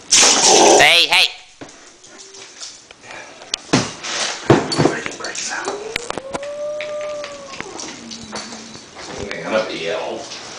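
A puffy dog whimpers and gives rising whines and short barks, with sniffing, close by and intermittent, while a person talks excitedly over it.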